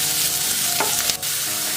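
Carrot, beans and cabbage fry in a pan with a loud, steady sizzle, broken by a few quick stirring scrapes partway through, with no voices.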